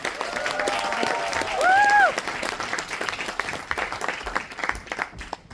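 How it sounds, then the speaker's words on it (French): An indoor audience applauds at the Cosplaymania 2026 cosplay contest, a dense, sustained clapping crowd with a brief whistle or cheer early on that fades toward the end. "Merci beaucoup, on applaudit."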